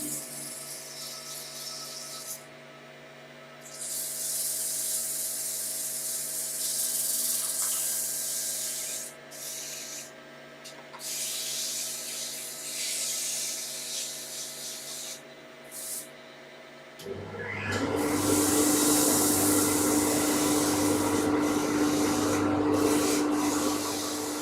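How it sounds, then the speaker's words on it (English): Sandpaper rubbing and flapping against a wooden bud vase spinning on a woodturning lathe, a steady abrasive hiss that pauses briefly, then returns louder alongside the lathe's motor hum. "Hear that flapping across the sandpaper"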